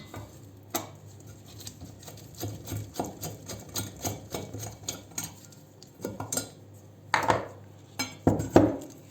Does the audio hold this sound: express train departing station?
no